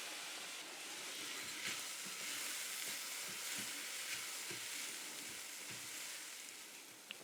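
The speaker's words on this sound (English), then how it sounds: "We'll melt the butter, and then we're putting in our onions." Onions and rice sautéing in melted butter for risotto give a faint, steady sizzle and hiss, with soft occasional stirring scrapes and no talking.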